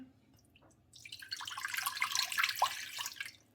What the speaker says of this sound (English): We're going to put a measured amount of water in both of them